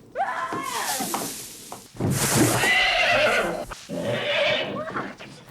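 A horse neighs loudly several times in long, shrill whinnies with short pauses between them, close by in a barn scene from the 1979 film The Black Stallion, with a few knocks and thuds in between.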